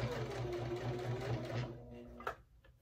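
A sewing machine stitching over a thick seam of a budget fabric bag runs in a close, rapid mechanical rhythm for about two seconds, then stops with a sharp click and a few faint handling sounds.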